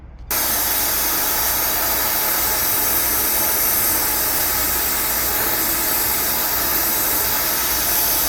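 A torch heats a bolt on a Packard woody during assembly, giving a loud, steady hiss that starts abruptly and runs unbroken, close up, with no talking.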